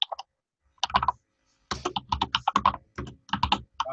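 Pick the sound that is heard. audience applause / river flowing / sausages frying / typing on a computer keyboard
typing on a computer keyboard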